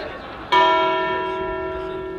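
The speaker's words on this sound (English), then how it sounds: "this beautiful cathedral here behind me has not one but two bell towers holding 18 different bells that are going to ring" A single church bell strike from one of the two bell towers of a cathedral in Mexico City, a loud clear clang with a long, slowly fading ringing tone after a quiet start.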